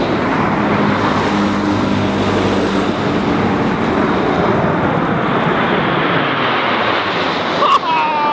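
An RAF aircraft passes over a garden, a loud, steady broadband engine roar that fills the whole stretch without breaks, with no talking heard.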